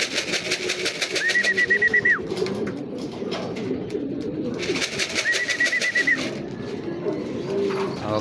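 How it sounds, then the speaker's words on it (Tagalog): Racing pigeons coo inside their loft, close and clear, with repeated soft rolling calls in two distinct bursts over a low background of shuffling and other bird murmurs. "Okay, so dito na guys yung mga ibon natin."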